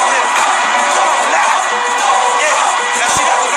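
A large concert crowd cheering and shouting loudly, a dense, sustained roar of voices throughout.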